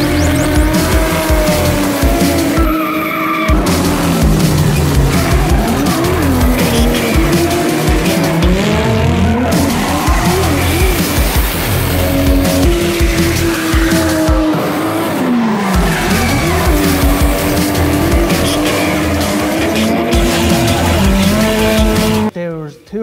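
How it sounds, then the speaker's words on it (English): Several cars drift on a public street in Japan, tires squealing in long wavering howls over loud, continuous engine roar, with brief gaps as they slide out of a junction. "Three cars drifting out of the junction."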